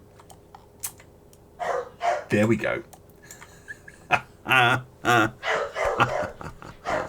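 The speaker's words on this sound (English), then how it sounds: "Apologies for my dog." Dog barking nearby in a home: a string of sharp, loud barks in quick bursts, some doubled, with a voice speaking briefly alongside and a few keyboard clicks in the background.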